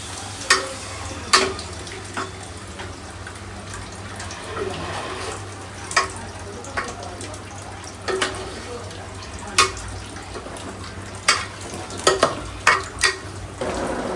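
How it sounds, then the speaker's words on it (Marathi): A spoon stirs chicken masala frying in a pan on a gas stove, sharp scattered clinks against the pan over a constant sizzle, with faint talking in the background. "आता एकदा चमच्याने हलव. जरासं गॅस मोठा कर."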